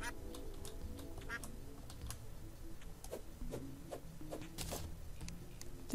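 A duck quacks in Terraria, a run of short, scattered calls at a moderate distance mixed with faint ticking clicks, over a low game backdrop.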